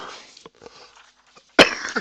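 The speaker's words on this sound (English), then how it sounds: "I've just had a bit of a violent coughing incident." A person coughs harshly, several short throaty bursts followed by a sudden loud, violent cough near the end, close and otherwise quiet.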